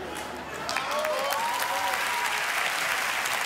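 Studio audience applauding during an Italian comedian's stand-up monologue, a steady dense wash of clapping that swells after the first half second and holds loud throughout, with a faint voice underneath.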